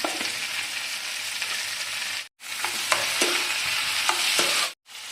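Chicken pieces frying in hot oil with yogurt stirred in, a loud, dense sizzle with scraping stirs, broken by two brief silent cuts.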